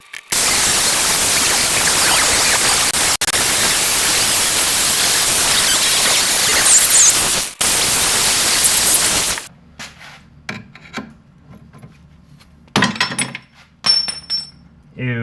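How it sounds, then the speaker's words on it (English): A rusted, seized bolt head on the rear shock of a 2003-2006 Infiniti G35x being cut off, a loud continuous abrasive grinding roar lasting about nine seconds with one brief break, followed by quieter scattered clanks and taps. "Now I think I'm going to cut this bolt head off."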